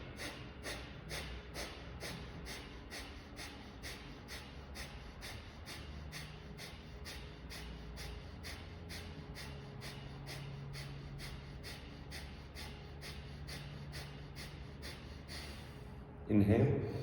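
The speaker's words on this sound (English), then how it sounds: "take a deep breath in, exhaling out through the mouth. From now on, only nose, inhale" Deep rhythmic breathing exercise: repeated strong nasal inhales and exhales at a steady fast pace, close and continuous for the whole stretch, with a louder rustle near the end.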